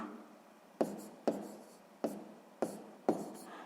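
A pen writes out a math calculation on paper, giving five sharp taps and scratchy strokes at a steady, unhurried pace, close and quiet with no talk.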